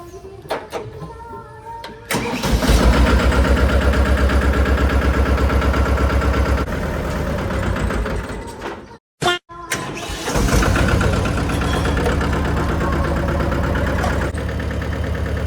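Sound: tractor engine starting and idling

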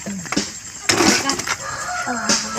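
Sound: chickens clucking

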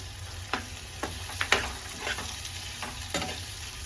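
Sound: onions frying in oil in a pan

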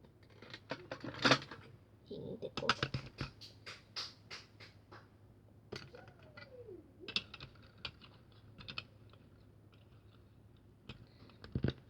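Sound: Lego bricks being snapped together

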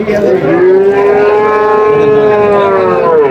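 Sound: cow mooing

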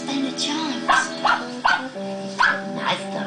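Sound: dog barking

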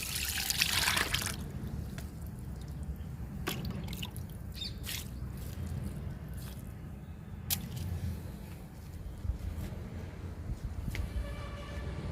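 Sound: pouring liquid fertilizer onto a plant bed

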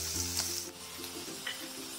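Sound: chopped onions frying in hot oil

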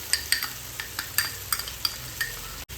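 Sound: stir-frying onions with ginger garlic green chili paste

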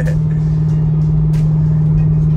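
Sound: Chevrolet Corvette C6 engine while driving

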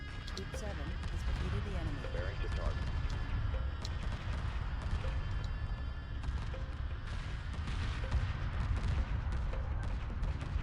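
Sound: cannon and missile fire in space battle, Homeworld Remastered video game

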